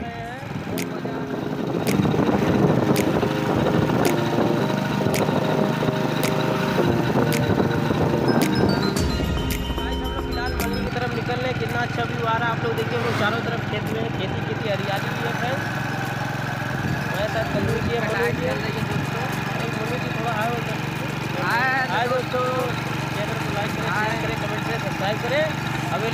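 A motorbike ridden on a dusty road in Malhani, steady engine drone with buffeting wind noise throughout, a louder stretch early on that eases after about ten seconds, and riders talking over it.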